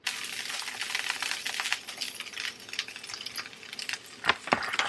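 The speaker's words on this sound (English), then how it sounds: "Now we're going to let these cook for a few minutes until they start to thaw out and brown on the side that is facing the pan." Frozen Trader Joe's cauliflower gnocchi browning in a pan, a dense, close crackling sizzle with uneven bursts of popping that swell and fade.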